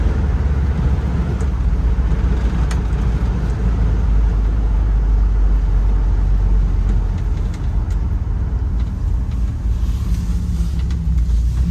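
A 1965 Ford Mustang GT convertible with a 289 V8 drives at speed, a steady loud engine and road rumble with wind buffeting the microphone throughout, no speech.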